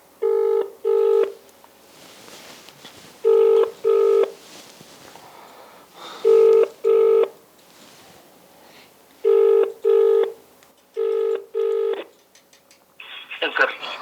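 A phone call placed during a live news broadcast rings out in steady pairs of double-burst ringback tones, repeating clearly for several cycles before a voice briefly starts up at the very end.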